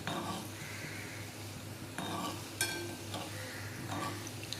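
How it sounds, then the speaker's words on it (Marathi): Fasting kachori frying in hot oil over a low flame, a steady soft sizzle with occasional stirring scrapes and light clinks of a utensil against the pan. "असे मस्त तळून घ्यायचे"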